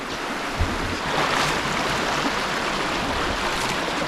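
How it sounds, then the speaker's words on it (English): Creek water flows steadily along Gunpowder Falls, a continuous broadband rush close to the microphone with no voices and a brief swell near the start. "Look at this nice creek"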